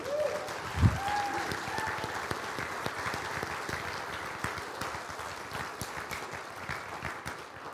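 A congregation applauds the confirmation class at an evening Erev Shavuot service in a synagogue: dense, sustained clapping from a large indoor group that holds steady throughout, with a brief voice or tone near the start.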